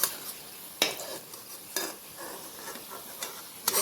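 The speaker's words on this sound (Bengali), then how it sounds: "আমরা একটু পর পরই উল্টে পাল্টে ভেজে নিচ্ছি" Chicken samosas frying in hot oil in a home kitchen, with a steady soft sizzle broken by a few sharp clinks and stirring scrapes as the pieces are turned, close and fairly quiet.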